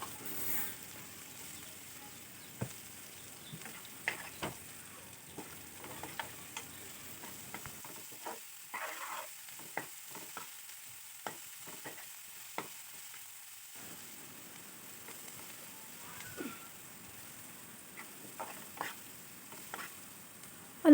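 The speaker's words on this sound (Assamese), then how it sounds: "গোটা পিঁয়াজ লৈছোঁ মই, পিঁয়াজখিনি অলপ ৰঙচুৱাকৈ ভাজি ল'ম।" Whole onions frying in a pan give a faint, steady sizzle, broken by scattered stirring clicks and scrapes of a utensil, with no talking.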